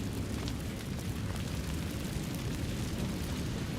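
Incendio fire spell in the Hogwarts Legacy video game, a dense roaring whoosh of flame with low rumble, loud and sustained throughout with faint crackles and no talk.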